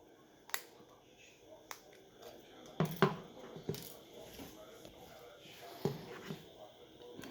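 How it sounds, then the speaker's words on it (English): Removing the SIM card tray from an OPPO Reno 5 Lite CPH2205 phone during a motherboard replacement: scattered small, sharp metallic clicks and ticks, close up, with a brief cluster of louder taps midway. "First, remove the SIM card tray."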